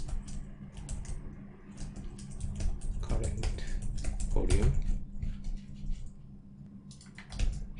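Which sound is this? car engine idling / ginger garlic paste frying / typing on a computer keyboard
typing on a computer keyboard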